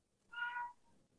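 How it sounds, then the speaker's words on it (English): A house cat lets out a single short, faint meow, quiet and somewhat distant against near silence. "That's my cat, by the way."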